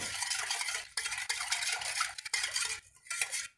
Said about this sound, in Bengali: এরপর খুব ভালো করে ফেটিয়ে নিতে হবে।